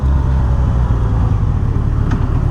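A 2007 Yamaha FJR1300 sport-touring motorcycle rolls along a hot road, its engine a steady low drone buried in loud, constant wind rush, with no voices.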